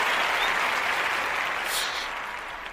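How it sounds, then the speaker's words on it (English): A round of applause from an audience, steady dense clapping that holds for the whole stretch and slowly fades toward the end, with no talking over it. "Let's give them a round of applause."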